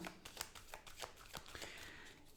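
Tarot cards drawn from a deck, a soft run of papery slides and flicks, close and quiet, with a steady card-shuffling rustle and no talk.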